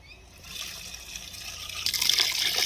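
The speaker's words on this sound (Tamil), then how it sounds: "நாங்க இப்ப கரைச்சி வச்ச புளி தண்ணியை வீத்த போறோம்." Tamarind water poured into a cooking pot for a village fish kulambu; a soft trickling splash that swells into a louder, hissing pour toward the end, heard up close with no talk.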